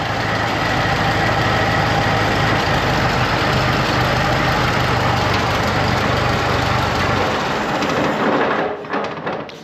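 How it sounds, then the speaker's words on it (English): A growly generator runs loud and close with a steady, rough low rumble, then winds down and cuts out near the end. "Generator's a little growly."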